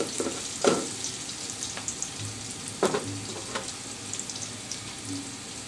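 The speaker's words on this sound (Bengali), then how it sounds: "সেটা আমি এখন দিয়ে দিচ্ছি যেন পেঁয়াজটা একটু তাড়াতাড়ি ভাজা হয়ে যায়।" Onions fry with salt in a pan for rice pulao, hissing and sizzling steadily, broken by a few clear scrapes of a stirring spoon.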